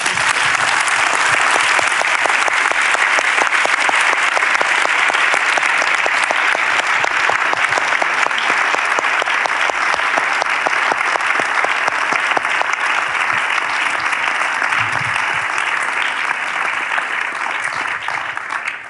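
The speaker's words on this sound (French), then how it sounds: "Ça mérite vraiment un tonnerre d'applaudissements." A theatre audience in Carouge applauds loudly and continuously for nearly twenty seconds, a steady wash of many hands clapping with no voices on top.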